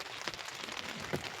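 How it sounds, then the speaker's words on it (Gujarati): Heavy rain falling during a windstorm in Tharad village, a steady close hiss of drops pounding a surface that runs throughout the short stretch, with no voices. "વાવાઝોડા સાથે ફૂલ વરસાદ આવ્યો"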